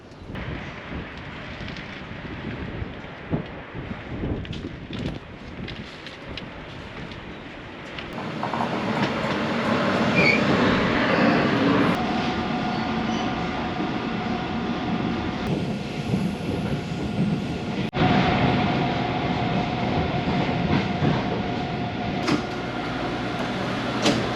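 A steady, loud rumble of a train fills Longgang train station in Taiwan, growing heavier partway through and holding as a continuous roar with no talk.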